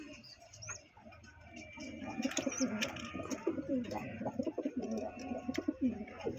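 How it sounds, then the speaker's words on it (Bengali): Several Andhra pigeons coo in low, throaty rolls that repeat and overlap, with a few faint higher chirps over a quiet, close background. "আন্ধ্রা পিলাঙ্কা চোখের পায়রা আছে"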